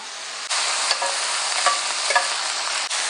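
Chicken and crispy squid stir-fried together in a hot pan for Thai-style noodles, giving a steady, close sizzle with a few scrapes and clinks of the spatula stirring throughout.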